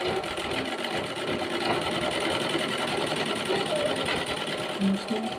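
A sewing machine stitching a carry bag runs in a steady, close, loud whir throughout, its rapid needle rhythm continuous from start to finish.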